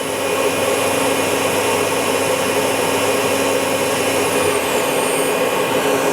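A new 2004 Citizen M-20III Swiss-type CNC lathe spindle runs at 6,000 RPM, giving a steady, even, high-pitched whirring hum that holds constant throughout without any speech.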